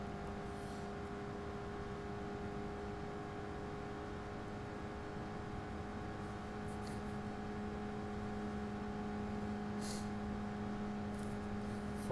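Corvette Group 3 race car engine in Gran Turismo Sport, a steady sustained drone holding at an even pitch throughout, with faint brief whirs and clicks on top and no voices.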